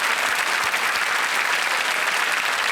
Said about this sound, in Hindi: एक बार फिर तालियों के साथ उनका अभिनंदन करते हैं।